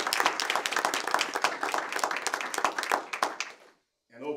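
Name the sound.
audience applause at a school board meeting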